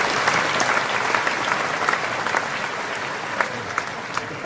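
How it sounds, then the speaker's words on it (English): Applause fills a campaign office for Jeb Bush, a steady, moderately loud patter of many hands clapping throughout, with a few sharper claps standing out and faint murmurs underneath. "Kind of a golf clap meets game show there"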